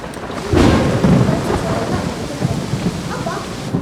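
Night rain with thunder: a steady, close downpour hisses throughout, and a deep rumble swells early on and then fades under the rain.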